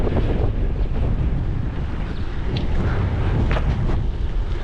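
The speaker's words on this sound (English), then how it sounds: "Not just chilly, but really windy." Strong wind buffeting the microphone on a bridge, a loud continuous low roar with gusty rumbling throughout and no talk.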